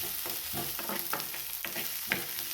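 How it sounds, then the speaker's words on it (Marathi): Moth beans (matki) roast in hot oil in a pan for thecha, a steady close sizzle broken by several scraping stirs of a spoon, with no one talking. "ही मटकी इकडे आपण मटकी पॅनमध्ये घातलेली आहे आता ही आपल्याला थोडीशी भाजून घ्यायची आहे"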